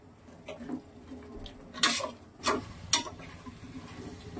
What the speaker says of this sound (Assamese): ফুলকবি আৰু আলুটো যেতিয়ালৈ পানীটো নেৰে তেতিয়ালৈ ভালকৈ ভাজি ল'ব